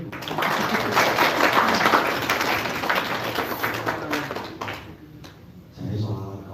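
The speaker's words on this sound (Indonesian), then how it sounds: "Tepuk tangan ini." Audience applause at a LESBUMI cultural talk in Malang Regency, a dense, steady wash of clapping that fades out, followed by a brief burst of voices.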